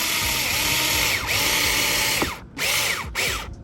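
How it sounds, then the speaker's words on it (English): A power drill whines steadily as it drives a self-tapping screw into plastic while fitting fog lights on a 2011-2016 Scion tC, with pitch sweeps and brief pauses near the end. "So I'll just take it slow, right? So it's drilling in."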